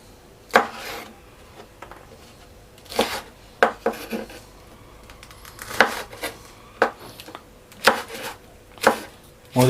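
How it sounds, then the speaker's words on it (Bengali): Green chillies are sliced thin and long with a knife on a board, making sharp, close, irregular chopping knocks, some single and some in quick pairs, with quiet pauses between them. "এখন কয়েকটা কাঁচা মরিচ কেটে নিব"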